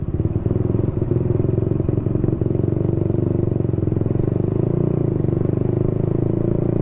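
Honda Supra motorcycle engine running on Shell Advance oil, throttle released while riding through Surabaya streets: a close, steady low putter with a faint clattering edge under it, easing slightly as the revs drop.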